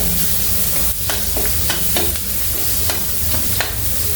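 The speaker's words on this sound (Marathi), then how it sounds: "जो खोबऱ्याचा जो आपण मसाला केला होता तो आता चांगला परतून घ्यायचा तेलामध्ये" Coconut masala frying and being stirred in hot oil for lemon rice, a steady loud sizzle broken by repeated scraping strokes of a spoon against the pan.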